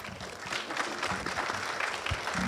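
An audience at a panel discussion breaks into applause, a dense, moderately quiet patter of many hands clapping steadily for a couple of seconds.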